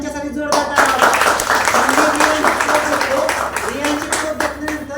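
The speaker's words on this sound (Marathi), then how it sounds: "एकदा ह्यांच्यासाठी जोरदार टाळ्या." An audience breaks into loud, sustained applause, many hands clapping densely together while voices call out and talk over it.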